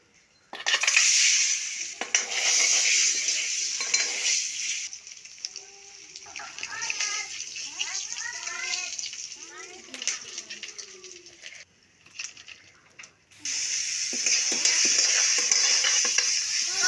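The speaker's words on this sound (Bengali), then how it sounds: "আন্ডা ভাজবার নিগে তেল গরম হয়েছে" Egg frying in hot oil gives a loud, bright sizzle with stirring scrapes, fading midway while a person talks nearby, then returning strongly at the end.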